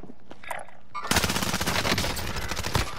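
Automatic gunfire erupts in the Warzone video game after a quieter opening second, a loud sustained burst of rapid shots rattling continuously to the end.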